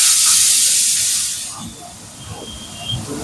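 Potatoes and pumpkin hit hot oil already seasoned with broken dried red chillies and panch phoron, giving a loud, broad hissing sizzle that is strongest at first and eases after about a second and a half into a softer crackle.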